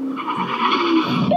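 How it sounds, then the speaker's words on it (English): Tires of a Tesla Model S Plaid skid hard as the car brakes from 70 mph, a loud continuous squeal and rumble with no voices over it. "now we got the brake test from 70 miles an hour"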